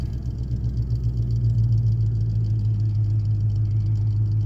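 A 1998 Ford Mustang GT V8 settles to a steady, loud idle with a deep low rumble, holding constant throughout with no voices over it, on a car with a faulty idle air control valve.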